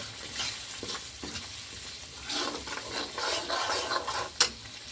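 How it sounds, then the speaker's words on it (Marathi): Ground masala paste stirred and fried in oil, a continuous sizzle with scraping stirring strokes against the pan and a sharper clink near the end, close and steady, no voices. "आता आणि याला चांगल्याने हलवून घ्यायचं."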